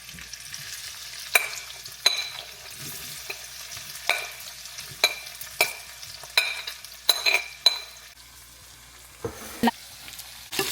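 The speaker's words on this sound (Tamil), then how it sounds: "நான் முதல் சொன்ன மாதிரி எண்ணெய் கொதிச்சு தெறிக்குது" Hot oil crackles and spatters with sharp, irregular pops over a low, steady frying hiss while frying chicken for curry; no one speaks.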